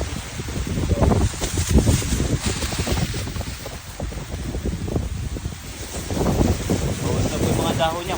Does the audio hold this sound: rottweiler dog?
no